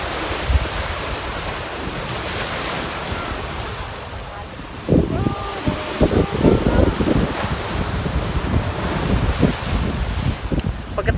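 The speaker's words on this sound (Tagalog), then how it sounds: "punta naman dito sa tabing dagat" Waves wash onto a seashore under gusting wind, a steady rumbling surf with louder bursts of breaking water in the second half and wind buffeting the microphone.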